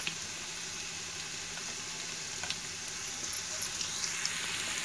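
Ginger garlic paste sizzles in hot oil in a pan next to potatoes during a potato fry, giving a steady, soft crackling hiss with faint pops throughout.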